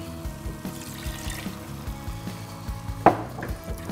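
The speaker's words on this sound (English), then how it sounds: "I'm going to add the rest of the beef stock." Beef stock pours into a pot of chilli, a steady liquid trickle and splash mixed with soft clinks and a brief louder knock, heard close with no talking.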